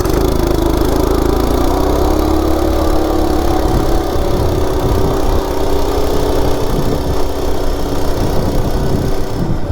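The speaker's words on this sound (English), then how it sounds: "0 to 30, totally stock Coleman RSV 196" A stock Coleman RSV 196cc minibike engine runs loud and close, holding a steady droning tone that climbs slightly early on as it accelerates from a standstill to 30 mph.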